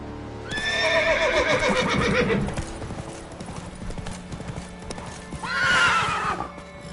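Roach the horse in The Witcher 3 gallops with quick rhythmic hoofbeats, close and loud, and whinnies twice, once early and again near the end.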